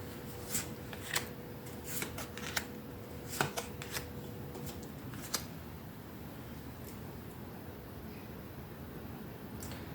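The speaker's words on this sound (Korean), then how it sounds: "한번 카드를 뽑아보도록 하겠습니다" Tarot cards are shuffled and handled in quiet, soft riffling flicks and light taps coming in a loose, irregular run, close and gentle, thinning out in the second half.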